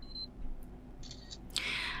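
Smartphone camera on a Nubia RedMagic Astra firing its shutter once the self-timer countdown ends: a faint high beep near the middle, then a brighter, louder shutter-like burst near the end over quiet room hiss, with no talk.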